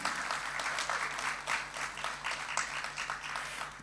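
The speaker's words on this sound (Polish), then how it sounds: "Brawa dla gospodarzy" A concert hall audience gives warm, sustained applause before a choir performance, dense clapping that swells and dips in waves, with a low steady hum underneath.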